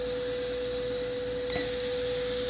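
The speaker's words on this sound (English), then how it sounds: "It's using the compressed air to generate vacuum. So I'm going to go ahead and turn the vacuum on." A compressed-air vacuum on a Disco DAD 2H6TM dicing saw runs as a steady, close hiss with a constant whine, and a brief click is heard partway through; no one talks.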